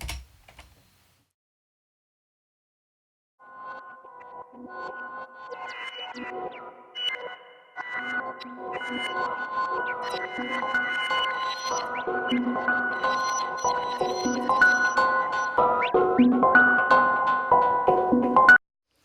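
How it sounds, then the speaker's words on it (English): Bubbly, pitched electronic blips swell in after a short silence, growing denser and louder with a reverberant wash before cutting off abruptly. "we're going to use the bubbler as well"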